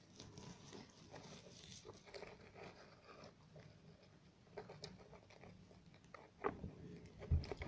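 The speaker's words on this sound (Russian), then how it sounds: "Что там жует или опилки рвет? Не опилки, а салфетки." A pet hamster chews and tears paper napkins inside its cage house, making faint, close, irregular nibbling and rustling with small scratchy bursts and a few sharper crinkles toward the end.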